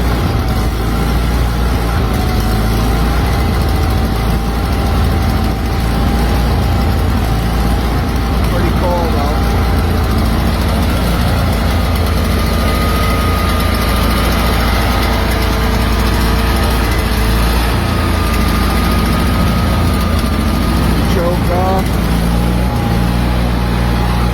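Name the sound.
engine started with the choke pulled, then idling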